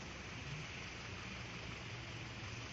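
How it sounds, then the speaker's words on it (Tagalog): Heavy rain pours during a flood on a road in Sharjah, UAE, making a dense, constant hiss that stays loud and unbroken throughout, with no voices. "Malakas ang ulan ha,"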